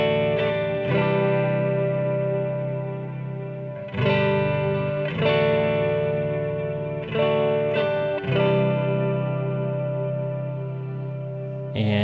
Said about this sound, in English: the Arena Reverb is going to be kind of my my other option for a modulated ambient reverb